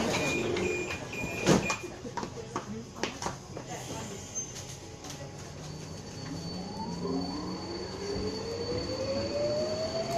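A Budapest metro train pulls away and runs through the tunnel, with a rising whine, rumbling wheels and squeals, while faint talk and a chime come through early on.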